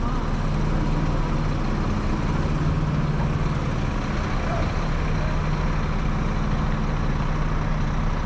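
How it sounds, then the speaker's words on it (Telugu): A Hyderabad-to-Visakhapatnam long-distance bus idles at the station, its engine producing a continuous, loud, low rumble that stays even from start to finish. "ఇదిగోండి ఇదే బస్సు"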